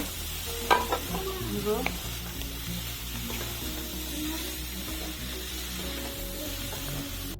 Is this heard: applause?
no